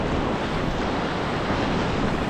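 Sea waves wash onto the beach at Diveagar, a dense continuous rush of surf mixed with wind buffeting the microphone, with no voices.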